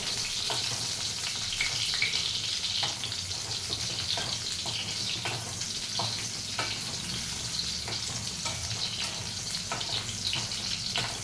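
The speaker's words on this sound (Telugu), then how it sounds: "అవి మంచిగా ఫ్రై అవ్వాలి చూడండి అలా మంచిగా ఫ్రై అవ్వాలి ఇవి" Gooseberry pickle ingredients fry in oil in a pan, giving a loud continuous sizzle and crackle with frequent small pops and stirring scrapes, close up and without talk.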